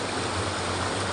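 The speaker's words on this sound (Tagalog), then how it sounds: "Lami na ilang paminaw kay bunaw kayo ang tubig." Stream water flows in a steady, dense rush, close and continuous, with no breaks or voices.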